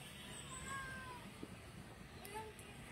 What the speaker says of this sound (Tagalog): Mga pusa sila rito.